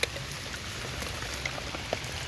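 Steady patter of rain falling on a surface in a forest in Laos, with occasional louder drops standing out against the constant wash of noise.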